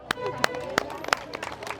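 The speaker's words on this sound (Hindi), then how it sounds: "इनके लिए जोरदार तालियां" Applause from a crowd cheering the second-place winners at a community event, quick uneven claps and sharp pops lasting under two seconds, with some chatter mixed in.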